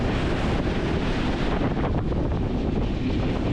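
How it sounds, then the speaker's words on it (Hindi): Water released through the Farakka Barrage roars as a loud, continuous rushing wash, heard in the dark from a passing train with wind buffeting the microphone. "आपको आवाज़ सुनाई दे रहा होगा पानी छोड़ने का"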